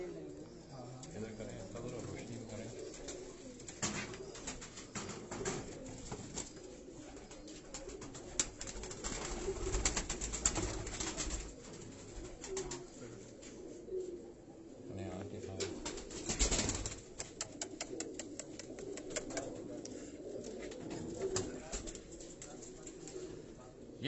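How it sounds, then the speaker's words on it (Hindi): Teddy breed pigeons coo in low, repeated murmurs at a Karachi loft, the cooing mixed with flutters and handling noise and partly masked by someone talking nearby throughout. "ये जो हाजी साहब के हाथ में ये कबूतर आप देख रहे हैं"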